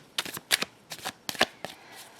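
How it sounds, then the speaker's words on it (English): Tarot cards are riffled and shuffled in several quick bursts close by, with short pauses between each flurry. "so let's do some shuffling"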